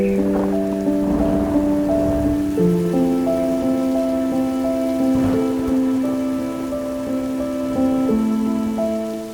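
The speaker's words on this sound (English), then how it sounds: "the ground begins to soften under the first drops of rain" The first rain of the wet season falls in South Luangwa, Zambia, a dense, steady patter of drops on the ground, close and continuous, with sustained tones running alongside.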